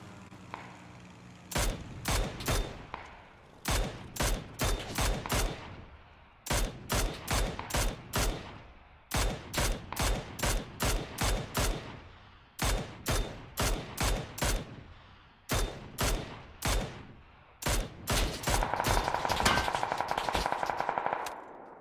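Automatic gunfire in the battle royale game PUBG comes in repeated short bursts of sharp, loud shots separated by brief pauses, ending in a longer sustained volley, with no talking.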